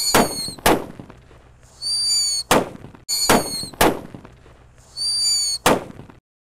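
Jumbo paper-wrapped firecrackers set off together give a series of sharp, loud outdoor bangs in two matching bursts, with a shrill whistling hiss between the blasts. No one speaks.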